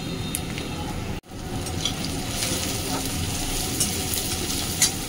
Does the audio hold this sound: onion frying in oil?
yes